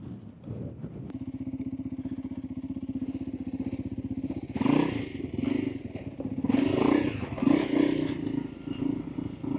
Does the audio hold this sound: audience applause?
no